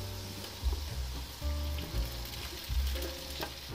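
Steamed sago pearls with potato and green chilli stir in hot ghee in a wok, making a soft, steady sizzle broken by several low thumps and scrapes of the spoon.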